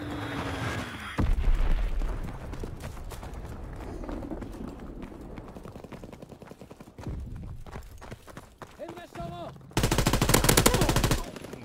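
Gunfire in the Call of Duty WW2 video game: repeated automatic bursts and sharp shots over a busy battle din, with a loud, sustained machine-gun burst near the end.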